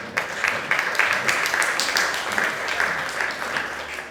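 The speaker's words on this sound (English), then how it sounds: "Please give him a round of applause to start." A conference audience at BTCPay Day in Riga claps for an incoming speaker, giving a steady round of close, dense applause that tapers slightly toward the end.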